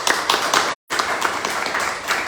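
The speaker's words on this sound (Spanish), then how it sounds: "Todos al unísono vamos a darle un fuerte aplauso" Dense applause from a sizable audience at an academic lecture, steady and sustained, broken by a brief silent gap.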